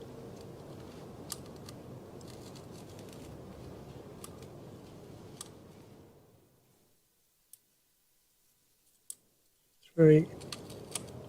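A CFMOTO 800 MTX motorcycle's suspension damping adjuster gives a few sharp, isolated clicks in a quiet stretch after steady background noise stops, followed by a voice counting.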